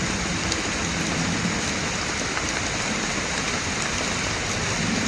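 Heavy rain falling in a downpour, a dense, constant roar of drops hitting surfaces, loud and close throughout without a break.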